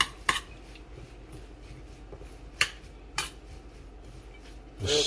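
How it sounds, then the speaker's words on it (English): Utensil scraping and clinking against a bowl while stirring a polenta mixture, a few sharp taps spaced irregularly over a quiet background. "And I'm just going to stir all of this stuff together."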